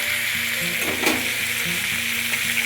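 Salted pumpkin curry frying in a pan as it is stirred, a bright steady sizzle with occasional scraping strokes, close and moderately loud, alone without voices.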